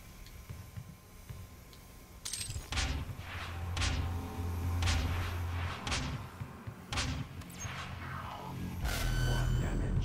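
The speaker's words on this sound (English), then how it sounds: "Oh, that's a fucking rocket launcher." Rocket launcher fire in the video game Doom: a series of sharp, loud blasts with heavy low thumps, roughly every half second to a second, over steady game background noise.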